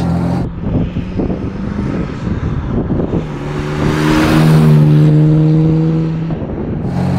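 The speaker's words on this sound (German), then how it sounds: "Motor läuft seidenweich" A 1958 Jaguar XK150 3.4 engine runs steadily while driving, a smooth low hum that swells louder midway with a rising tonal drone, then eases off.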